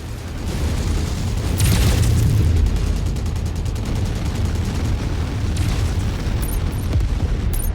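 A mech blown apart in MechWarrior 5, a loud deep boom followed by a long rumbling roar of debris and fire, with a second burst of crackle partway through and no talking over it.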